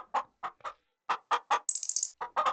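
Chickens in a farming video game cluck in short, evenly spaced bursts, with one quick run of higher-pitched squawks partway through, close and clear against silence.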